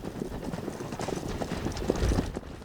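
Horses' hooves drum during fast riding across the Arizona desert, a dense, continuous patter of quick hoofbeats at moderate distance over rushing outdoor noise.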